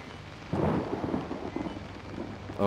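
Thunder from a lightning storm in the horror video game Outlast rumbles in with a sudden heavy roll over steady rain, then fades back to a softer patter.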